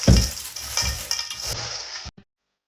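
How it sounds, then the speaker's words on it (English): Fingers stir and toss a spice mix in a bowl, giving soft rustling and scraping sounds in short uneven bursts that end in a faint clink, then silence. "I think I'm going to need to use my fingers to kind of move some of these spices around"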